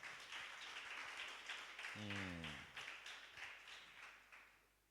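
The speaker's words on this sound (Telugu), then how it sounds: "అందరూ చప్పట్లు కొట్టి దేవుని మహిమపరుద్దాం." A church congregation claps together in a steady, even rhythm, faint and a little distant, while a voice briefly rises over the clapping partway through.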